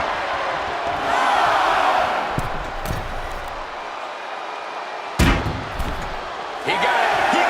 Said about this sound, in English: Do you hear the crowd, Corey?